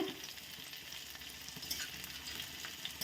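Crushed garlic and dried chili sizzling in hot mustard oil, an even, fairly quiet crackling fry with faint stirring clicks scattered through, no voices.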